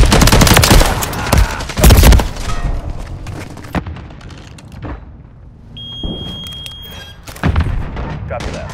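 Bursts of gunfire from Call of Duty: Modern Warfare 3 multiplayer, loud rapid shots clustered early with sharp thumps and later volleys, a beeping tone midway, and voices talking at times.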